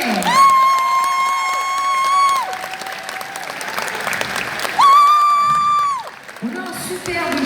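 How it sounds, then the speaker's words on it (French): A crowd applauds and cheers loudly for the jury of a cosplay contest at a gaming convention in Pau, with sustained clapping, shouts and two long horn-like tones blaring over the noise. "Je vous demande d'applaudir bien fort Beryllium, Valandra, Orion et One Nate"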